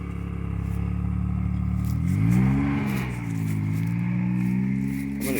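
A Kawasaki Mule Pro FXT engine hums steadily off-road at crawling speed, its tone swelling and dipping gently as the throttle is eased, heard close with no talk.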